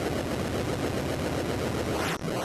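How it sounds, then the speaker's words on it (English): An explosion in an 8-bit NES video game gives a loud, harsh, continuous crackling roar that barely varies, with a brief dip just before the end. "That's the explosion behind him."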